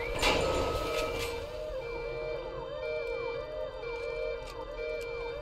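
Wailing alarm siren inside the video game BioShock Remastered, a steady rising and falling electronic tone that cycles repeatedly and loudly without pause, alone with no voices over it.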